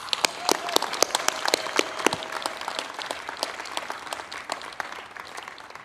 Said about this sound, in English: Please join me in a big round of applause congratulating these incredible Miamians.